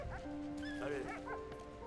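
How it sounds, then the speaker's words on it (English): A dog in the war video game Valiant Hearts: The Great War barks and whimpers in short yips over a tonal game soundtrack, close and fairly quiet. "I did not mean to hit the dog."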